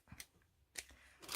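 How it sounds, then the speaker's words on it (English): Scissors snip through cream lace in three short, quiet crisp cuts spaced apart, close up in an otherwise silent room. "Let me cut it straight first."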